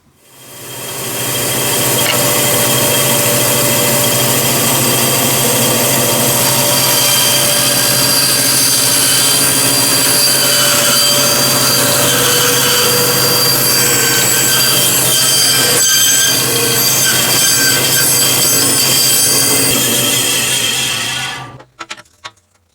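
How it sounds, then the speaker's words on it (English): Bandsaw slicing through wooden scroll pieces for a brush holder, a loud steady whining cut that runs nearly unbroken for about twenty seconds before the blade winds down at the end. "I'll go cut these pieces out on the bandsaw."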